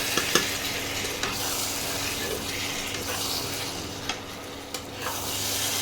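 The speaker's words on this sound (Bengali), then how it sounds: "মাংসটা কষিয়ে নিই।" Jungli-style mutton being stir-fried in oil in a pan, with a continuous close sizzle and occasional light scrapes and taps of the spatula, no talking.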